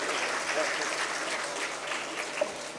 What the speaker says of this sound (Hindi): आपके लिए एक तालियां जरूर बनती हैं।